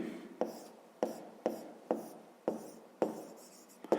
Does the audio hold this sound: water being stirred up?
no